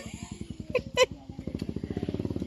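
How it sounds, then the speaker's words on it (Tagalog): A motorcycle passes along a road on an outing to Daraitan River, its steady engine putter growing louder as it draws near, with brief voices and a couple of sharp clatters over it. "Oh, may motor."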